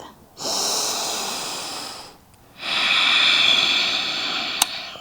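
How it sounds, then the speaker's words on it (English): Two long, deep breaths drawn and released during a yoga pose, close and airy, each several seconds with a short pause between, plus a faint click near the end. "And breathe."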